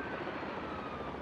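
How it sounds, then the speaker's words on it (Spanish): Helicopter in the video game Marvel's Spider-Man 2, a brief, steady droning rumble of rotor and engine that stays level throughout. "este es el helicóptero del padre"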